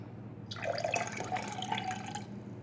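Distilled baking soda solution splashes and trickles steadily into a container for about two seconds, a bright, close pouring sound that starts and stops abruptly.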